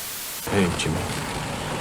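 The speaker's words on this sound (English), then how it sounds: "Gas leak? Yeah, gas leak." Steady broadband hiss of a leaking gas line rises abruptly and continues evenly, with a person talking over it.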